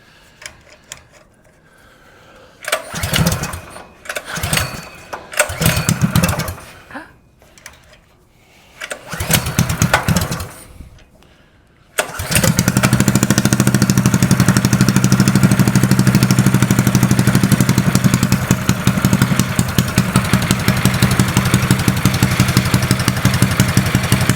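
A small mini trike engine with its choke lever cut off sputters through several short pull-start attempts, then catches and settles into a steady, loud idle that runs to the end.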